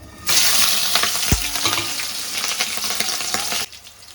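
Thinly sliced onions hit hot oil in a pan for a village-style beans and potato curry, a sudden loud sizzle that crackles steadily with stirring scrapes, then cuts off abruptly near the end.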